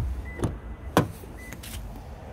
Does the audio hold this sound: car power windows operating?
yes